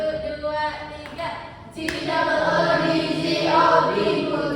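Children in a classroom perform a rhythmic class clap routine, their claps mixed with loud chanted and sung voices that grow fuller toward the end.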